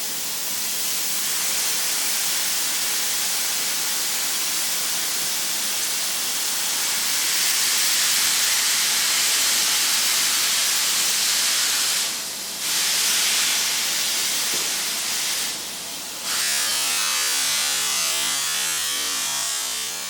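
A blocked Braun steam generator iron hisses continuously, loud and close, a steady broadband spray of steam broken by two short dips before carrying on, with no talking.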